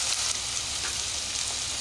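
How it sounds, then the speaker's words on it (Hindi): Garlic ginger paste fries in a pan, giving a steady, close, bright sizzle that hisses continuously through the brief moment with no talking. "लहसुन अदरक के पेस्ट को हम थोड़ा सा बनाकर सिर्फ 1 मिनट के लिए इसको भूनेंगे"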